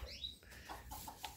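A bantam chick gives a few faint, short, high chirps in quick succession, close by in a quiet setting.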